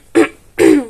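A woman with a hoarse voice makes two quick, loud, close throat-clearing coughs in a quiet indoor room, with a brief pause between them.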